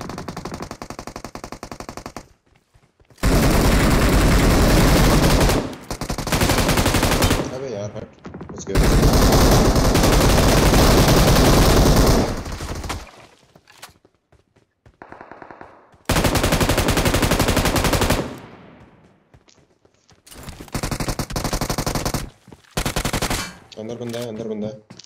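Bursts of automatic gunfire from the mobile battle-royale shooter BGMI rattle in several long, loud volleys separated by short pauses, with brief gaps of quieter game sound.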